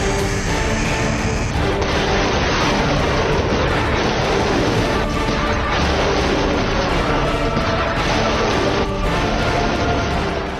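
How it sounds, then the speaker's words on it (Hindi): Iran's Bavar-373 missile defense system firing at targets during a military drill near Tehran, heard as loud, continuous roaring blasts and booming rumble with repeated surges, dense and close throughout. "इस युद्धाभ्यास में ईरान ने बावर 373 मिसाइल डिफेंस सिस्टम से टारगेट को निशाना बनाया।"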